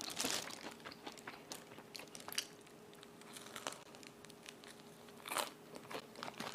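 Crunchy biscuits are bitten and chewed close by, with faint scattered crunches and a slight crinkle of packaging over a quiet background.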